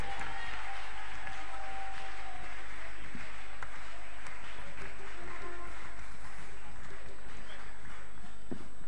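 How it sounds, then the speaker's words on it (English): Congregation clapping at a Christian prayer service in a Ghanaian church, a steady wash of hands mixed with crowd noise and voices throughout. "Clap for them as they mount onto the stage."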